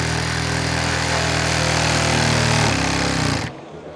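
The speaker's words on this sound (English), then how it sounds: "Cutting through the bolt." A Magi-Blade powered saw cuts through the lock bolt of a composite door, a loud, steady high-pitched grinding whine that holds for about three and a half seconds, then stops abruptly.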